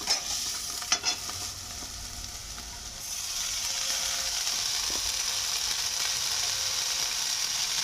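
Boiled chowmein is tossed and stir-fried with vegetables in an oiled pan, with a soft steady sizzle and scraping stirs, a few louder clatters early before the frying settles into a continuous hiss.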